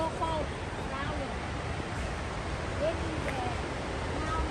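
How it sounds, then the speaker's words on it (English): Water flowing through forest in Doi Inthanon National Park, Thailand, makes a steady, even rush of moderate level that persists without pause, with faint higher chirps scattered above it. "If you listen closely, you can hear the water"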